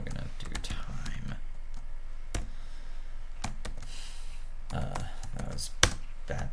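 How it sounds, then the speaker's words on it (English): Close keystrokes on a computer keyboard come in quick bursts of clicks with pauses between, as someone types commands in Vim while a voice talks over parts of it. "That was bad typing."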